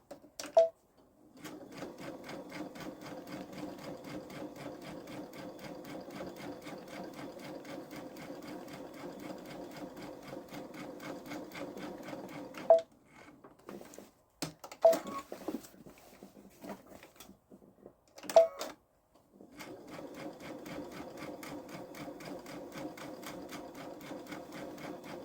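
A Babylock Solaris 3 sewing machine quilts a pillow front in long, steady runs of rapid stitching, pausing briefly in the middle for a few clicks and adjustments before resuming at an even, close pace.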